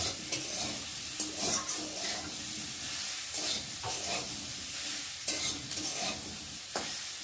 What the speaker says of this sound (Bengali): মশলার সাথেই সয়াবিনটা ভাজা ভাজা হয়ে যাবে।